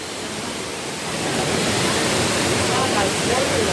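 Düden Waterfall roars loud and constant, a dense rushing wash of water that fills the whole scene and swells slightly louder partway through.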